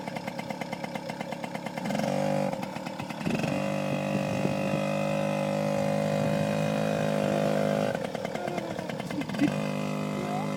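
Small motorbike on a child's first ride, its engine a buzzing, harmonic drone that rises and dips as the throttle changes, loud and close throughout.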